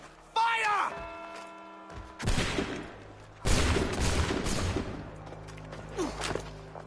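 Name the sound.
musket volley gunfire in Assassin's Creed 3 video game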